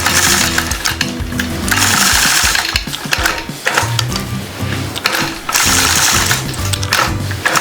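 A sewing machine stitches a quilt border in loud, close bursts of rapid mechanical whirring and clatter, separated by short pauses.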